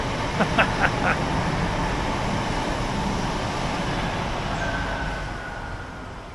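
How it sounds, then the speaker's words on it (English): A steady broad rumble of a train passing by, loud and continuous, slowly fading toward the end, with a few faint clanks near the start. "and that's a train."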